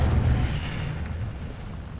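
Incendio fire spell cast in the Hogwarts Legacy video game, a short muffled whooshing burst with a low boom that fades over two seconds.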